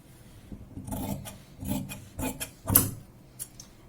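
Scissors cutting through denim jeans fabric near a folded hem, a series of rasping, crunching snips in uneven bursts, close and fairly quiet with no talking.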